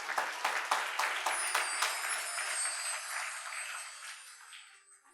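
A crowd claps at a devotional religious discourse, producing dense rippling applause that is strong at first and then tapers off steadily to quiet over several seconds.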